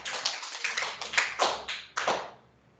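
Schoolchildren in a class clap for a classmate who answered a quiz question correctly: a short, uneven burst of hand claps, bright and close, fading out after about two seconds.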